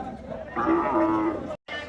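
A cow at a crowded cattle market before Eid lets out a low, drawn-out moo up close, with people talking around it.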